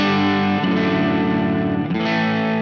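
Electric guitar played through the rhythm channel of a Laney LOUD pedal amp with the gain raised, a sustained, heavily driven chord that shifts once midway and rings on loud and steady, alone without talk.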